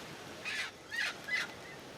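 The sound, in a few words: guinea fowl calling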